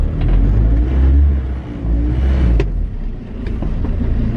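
A junkyard car engine revs hard and close by, a loud, low, rumbling roar that swells and eases in uneven pulses, with no one speaking.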